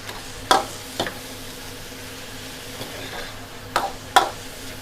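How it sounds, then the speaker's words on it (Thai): Basil beef with vegetables and shrimp stir-frying in a pan, a low constant sizzle broken by a few sharp spatula scrapes and clanks against the pan, close, with no talking. "จะผัดไปเรื่อยๆนะคะ อันนี้ยังจะผัดผักกุ้งนะคะ"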